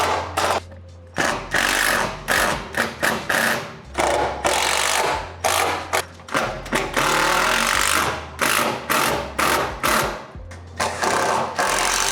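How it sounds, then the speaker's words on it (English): A power sander whirs in repeated bursts with short pauses between, loud and close, over a constant low hum, sanding garage drawers. "I'm pretty much done sanding it up"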